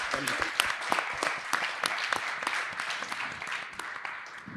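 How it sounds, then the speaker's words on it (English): Applause from the audience at an annual dinner panel discussion, a steady wash of many hands clapping at moderate distance, continuous throughout with no talk over it. "please join me in applauding Dhruva, Sharon, and the team for this"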